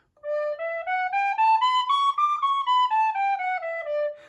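A tin whistle plays a smooth eight-note major scale rising to a high D and descending again, each note clear and bright, with no other sound.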